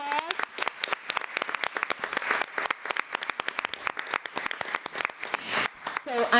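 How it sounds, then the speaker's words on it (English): A school board meeting audience applauds members of a school band, the clapping dense and close with irregular individual claps standing out, and a voice briefly heard at the start and end. "Let's give all of our Band of Blue members a big round of applause."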